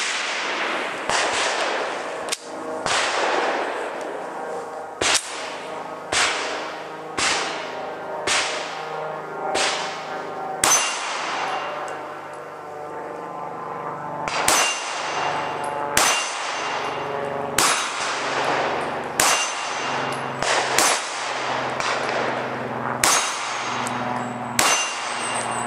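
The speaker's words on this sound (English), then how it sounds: "Shooting the Walther PPQ 9mm. Shooting 10 rounds of MagTech." A Walther PPQ 9mm pistol fires MagTech rounds at an 8-inch round AR-500 steel target about 15 yards away. Sharp shots are each followed by a ringing metallic clang, coming in an irregular series of more than a dozen impacts.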